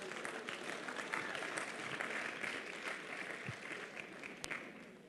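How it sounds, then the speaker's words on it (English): Alumni audience at a university Founder's Day convocation giving a warm, sustained round of applause, a dense wash of many hands clapping from across a large hall. "Give yourselves a warm round of applause."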